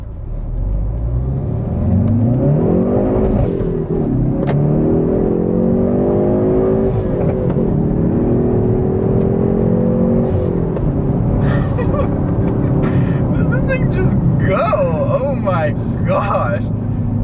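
Hyundai Veloster N pulling hard in first gear, its engine note climbing steadily in pitch with a loud, close, rumbling exhaust, followed by crackling pops and burbles toward the end, with talk over the top.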